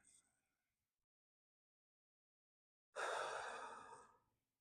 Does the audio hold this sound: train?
no